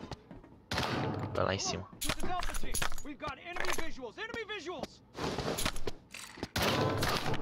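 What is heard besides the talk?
gunfire shooting at the player in a video game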